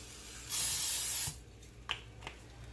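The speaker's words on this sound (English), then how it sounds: "Now I'm going to spray my pan again." A single sustained spray of cooking spray onto a pan hisses for under a second, close and loud, followed by a couple of faint clicks and quiet kitchen noise.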